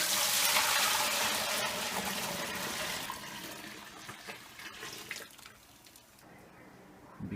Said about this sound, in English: now we'll pour the wort back into the pot for the final boiling where we add the hops.